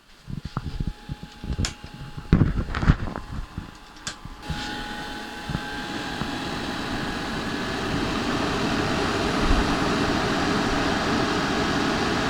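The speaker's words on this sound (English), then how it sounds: "the fans running flat out the whole time" Broadband fan roar swells in after a few clicks and then holds as a loud, steady whoosh that fills the rest of the clip, from an off-grid 48V inverter's cooling fans running at full speed.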